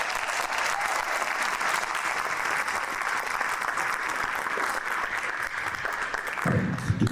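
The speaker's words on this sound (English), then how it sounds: "So one more round of applause for our symphonic band." Sustained applause from a school concert audience greets the symphonic band, a dense, even clapping wash lasting several seconds with a brief low thump near the end.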